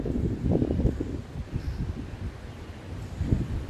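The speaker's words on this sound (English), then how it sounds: "Y'all hear that wind?" Wind blowing outdoors during outdoor work, heard as a low, gusty rumble with buffeting against the microphone and swelling surges, steady and fairly loud with no talking.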